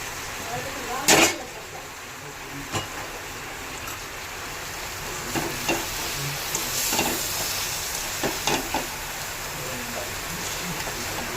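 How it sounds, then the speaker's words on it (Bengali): Drained lentils frying in hot oil in a pan, a steady broad sizzling hiss that runs throughout, with a few knocks and clatters now and then and no talk. "ডাল করে দিয়ে এবার এটাকে 1 মিনিট মতো একটু ভালো করে ভেজে নেব"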